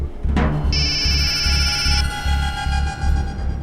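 A mobile phone rings nearby with a repeating electronic ringtone, bright pulsing tones that start after a short burst and continue steadily over a low throbbing beat.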